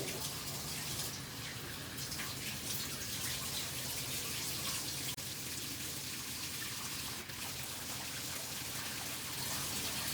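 Warm water runs steadily from a tap to rinse an amputee's residual leg after hair removal cream, a continuous broadband splashing wash with no talk.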